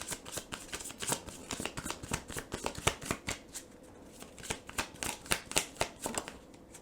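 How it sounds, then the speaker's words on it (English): Tarot guidance cards shuffled by hand, a steady run of close, crisp riffling and flicking bursts in quick rhythm, fairly quiet and heard without any talking. "I do want to pull just a few guidance cards as well."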